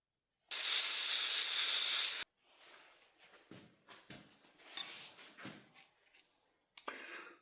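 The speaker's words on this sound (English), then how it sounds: "we're going to take it over to the disc sander and just sand it till we meet our scribed" A disc sander grinds a metal tractor step down to a scribed line, giving a loud, steady, harsh hiss for about two seconds. It stops abruptly and is followed by quieter scattered clanks and handling noises.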